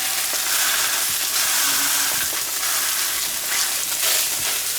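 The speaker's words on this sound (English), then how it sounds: "Give that a nice little push to make sure that skin gets a nice, that way it meets right on that skillet." Blackened salmon with the skin pressed down sears in a hot skillet, giving a loud, steady close-up sizzle with faint scraping and no talking.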